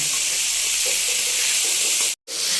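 Homegrown cluster beans (guar) fry in a pan for a dhaba-style sabzi, giving a loud, steady sizzle and hiss with a brief cutout near the end and no talking over it.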